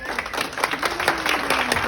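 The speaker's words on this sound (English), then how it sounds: "Round of applause. Stand to your feet." Warm audience applause welcoming a guest speaker at an evening gathering, a dense steady wash of many clapping hands, mid-distance and sustained, with a faint tone running beneath.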